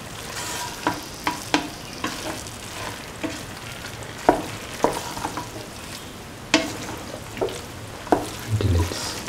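Rice is stirred into a frying cauliflower and potato mixture, a steady sizzle punctuated by repeated sharp spatula scrapes and knocks against the pan at an uneven rhythm.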